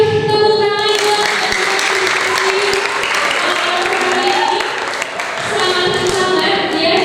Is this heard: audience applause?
yes